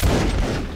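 A musket volley fired by a rank of soldiers in the Mount and Musket game bursts out as one dense, brief crackling blast, loud and close.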